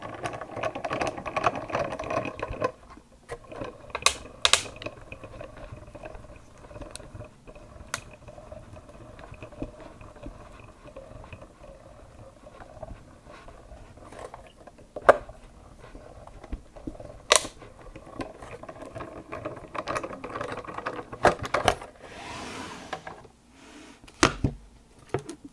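A Spellbinders die and cutting mat are cranked through a die-cutting machine, giving a steady low grinding rumble broken by sharp clicks and clunks, close and moderately loud, with no talking.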